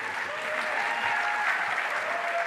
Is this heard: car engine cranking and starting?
no